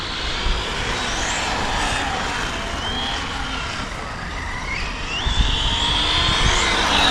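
An MJX Polo 7304 RC rally car driving without a gyro gives off a steady, high-pitched electric motor whine with occasional rising and falling pitch sweeps over a broad, rough hiss.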